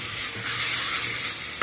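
Chicken breast seasoned with salt sautés in a very hot pot for a vegetable soup, giving a loud, steady sizzle with scraping stirs and a clatter of the utensil at the end.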